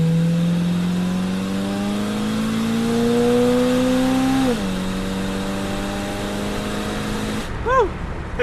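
A 1978 Oldsmobile Cutlass with a 403 V8 revs and accelerates, a loud rising engine drone that climbs steadily, drops sharply with a shift, then settles before a brief burst of louder noise at the end.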